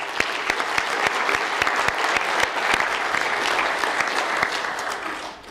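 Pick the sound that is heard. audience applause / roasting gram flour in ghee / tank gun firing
audience applause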